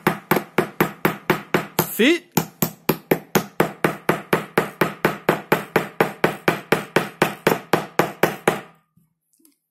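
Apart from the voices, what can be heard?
tapping fishing float fitting down with side cutters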